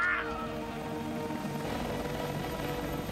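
Helicopter rotor and engine drone held steady and loud throughout, with no pause, in a scene where the villain Carlos Santana is being pursued.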